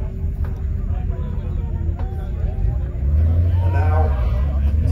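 A yellow Ferrari 308 GTB climbs Kop Hill at the 2022 hill climb, its engine swelling louder and deeper in the last seconds as it approaches, with a commentator's voice over the outdoor crowd murmur.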